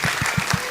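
Rhythmic clapping from an audience at a Javanese Islamic religious gathering with children: about five evenly spaced, fairly loud claps in under a second, with no talk over them.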